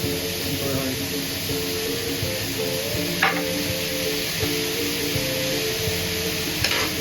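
Soy sauce going into beef brisket sizzling in a pan for tomato and potato braised brisket, a steady close frying hiss with stirring scrapes and a couple of sharp clinks, no talk.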